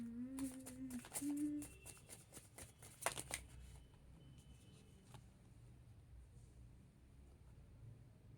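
Tarot cards are shuffled in quick riffling bursts during the first few seconds, close and crisp over a faint hum, before the room falls to a quiet hush.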